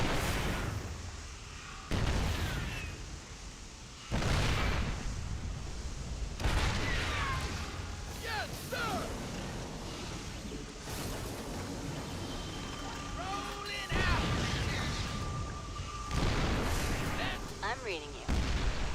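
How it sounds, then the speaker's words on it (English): A StarCraft 2 tank fires heavy booming shots in a video game: several loud, separate blasts spaced a few seconds apart over busy battle noise, with a voice heard at times. "Gonna get some kills with this tank."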